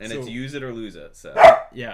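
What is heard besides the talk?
dogs barking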